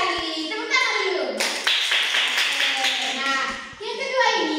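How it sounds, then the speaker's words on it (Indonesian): Children clap their hands in a classroom, a couple of seconds of brisk applause rising between a teacher's talking voice. "Tepuk tangan dulu."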